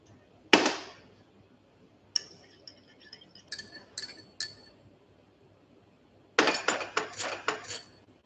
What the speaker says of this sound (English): Then inside a big bowl, you will mix your yeast.